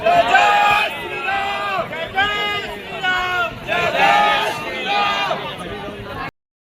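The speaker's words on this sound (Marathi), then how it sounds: "बघा किती गर्दी आहे" A large, dense crowd of devotees at a Ganpati pandal in Mumbai, many voices shouting and chanting together in rising, rhythmic bursts, loud and close, with a person talking among them.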